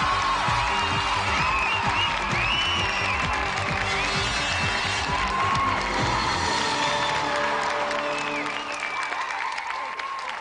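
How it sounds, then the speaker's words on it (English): Studio audience on a games TV show applauds and cheers loudly, with dense sustained clapping, whoops and crowd noise filling the whole stretch, tapering slightly near the end. "let's have another round of applause for Andy Thompson and our special guest, Richard Norton"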